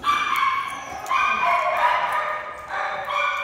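Dogs playing with a newly arrived puppy, giving a run of high, drawn-out whining yips and yelps that come close and loud in several bursts.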